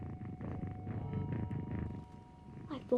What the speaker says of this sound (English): greeted her with loud purring